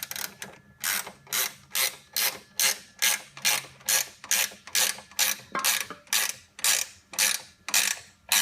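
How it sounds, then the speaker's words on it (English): A 13mm spanner tightening a bolt while mounting a solar panel pole, heard as a close, loud, regular run of about fifteen ratcheting clicks, each burst evenly spaced in a steady rhythm, with no talk. "You'll need 13mm spanner to do this one up."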